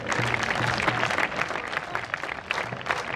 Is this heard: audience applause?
yes